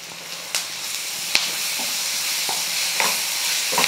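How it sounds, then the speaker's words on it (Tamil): Ginger garlic paste with onions frying in a pan for a Tamil country chicken fry, a steady broadband sizzle and hiss with a few sharp stirring clicks and scrapes, close and continuous with no talking. "இஞ்சி பூண்டு பேஸ்டெல்லாம் நல்லா வதங்கிடுச்சு."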